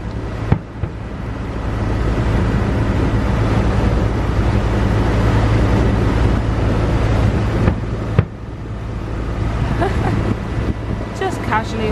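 A boat moving on water at night during a Disney fireworks show, with a steady engine rumble, wind and water noise filling the whole stretch, occasional knocks, and voices faintly underneath.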